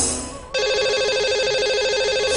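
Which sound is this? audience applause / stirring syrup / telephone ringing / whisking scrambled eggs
telephone ringing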